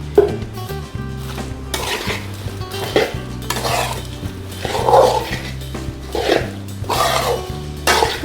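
Dried prawns with heads removed roast in a pan for a chutney powder, with repeated scraping and stirring strokes and a soft sizzle, close up, no speech.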